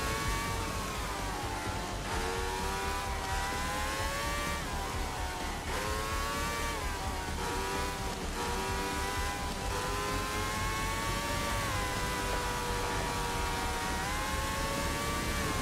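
A 1960s race car's engine in the video game Formula Legends drones steadily and close, with a whining, buzzy tone whose pitch rises and dips as the car speeds up and slows, continuous for the whole stretch without talk.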